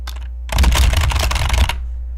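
Text is typed on a keyboard in one loud, close flurry of rapid clacking keys lasting about a second, with a few softer taps just before it and a low hum behind.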